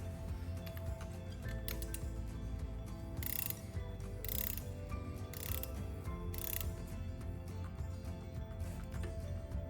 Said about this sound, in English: as soon as it clicks, you've hit your torque spec